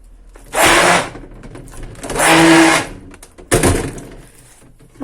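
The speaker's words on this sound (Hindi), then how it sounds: "तो जी इसको करते हैं ब्लेंड" An electric blender grinds a chicken shami kebab mixture with whole spices in three short bursts, each a loud, rough grinding whir with clunks between them.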